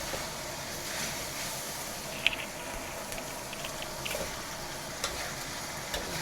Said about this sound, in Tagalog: Halo sa gulay.